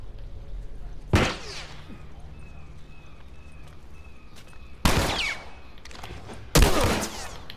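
Three loud, separate gunshots crack out during a tense The Last of Us encounter, spaced several seconds apart over a low ambient hum.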